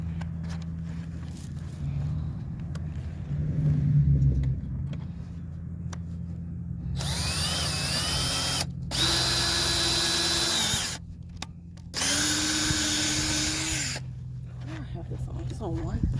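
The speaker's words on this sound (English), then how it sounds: "I really just need to put this up here and drill the holes" A power drill bores holes during off-season prep, running in three loud, steady whirring bursts of a few seconds each after a stretch of quieter background noise.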